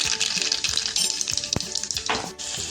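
Cumin and mustard seeds sizzle and crackle in hot oil, a close, bright frying hiss broken by sharp pops and a stirring scrape, with no talking.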